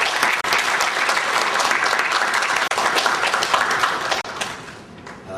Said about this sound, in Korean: 조동선 교수께 감사의 박수를 부탁드립니다